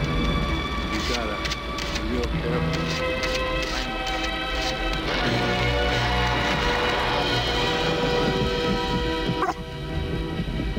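Heavy rain pours and thunder rumbles during a storm in the Lassie PC game, a constant loud wash with deep rolls, while a dog barks and yips over it.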